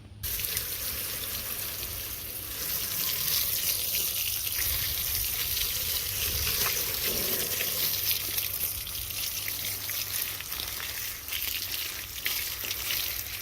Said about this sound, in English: I'm going to hose them down and get all the dirt off of them